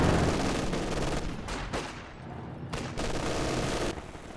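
Continuous gunfire and an artillery barrage in the Company of Heroes 2 strategy game, a dense roar of overlapping shots and blasts with brief dips, no talk.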